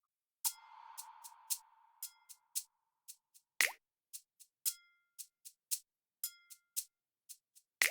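A sparse rhythmic worship music loop in 4/4 of bright plucked and pinging tones repeats in a steady pulse, quiet and clean with no voices.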